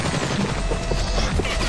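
Gunfire in a video game shows up as a dense, loud run of rapid overlapping shots and impacts, heard continuously over the short stretch with no pause.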